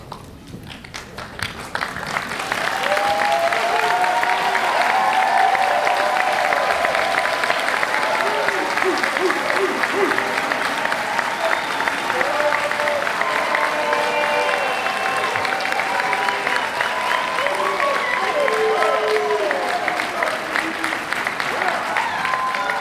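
Sustained applause from a large audience at a chiropractic college graduation ceremony fills the hall, swelling in after a couple of seconds and continuing loud and dense with cheering voices mixed in.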